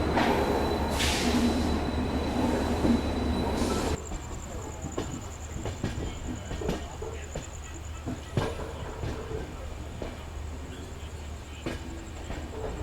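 The Mysuru to Nizamuddin Swarna Jayanti Express runs on the railway track beside a single-line third track, a steady rumble of wagons with wheel squeal and clickety-clack sounding close, loud at first and then a lighter continuous rolling.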